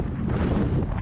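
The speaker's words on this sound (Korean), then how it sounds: "유난히 강풍이 불던 날" Strong gusty wind buffets the microphone on a coastal seaside street, a loud continuous roar of blustering air with no other clear sounds and no talking.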